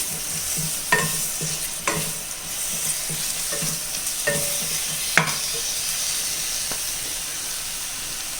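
Chopped tomato being stirred into fried spice powders in a pan for egg biryani, with a steady sizzle and repeated scraping strokes of a spoon about once a second, close by and with no talk.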